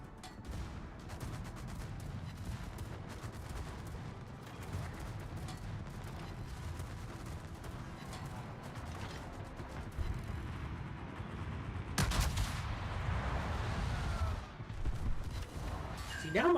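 Warship main guns firing in World of Warships during a submarine battle, heavy booms and rumbling blasts rolling continuously, with a sharper, louder salvo near the end.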